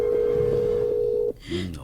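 A phone dial tone hums steadily for over a second while a call is placed, then cuts off abruptly and a brief voice follows.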